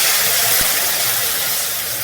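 Water poured into a pan of sizzling egg masala makes a steady, loud steamy hiss and sizzle, close by and continuous throughout with no speech.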